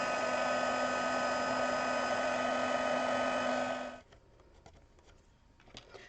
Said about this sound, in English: I'm going to put on my heat gun and I'm going to heat set these.